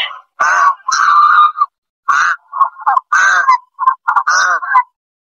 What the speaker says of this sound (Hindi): ये बतख भी आ जाती है ताकने के लिए।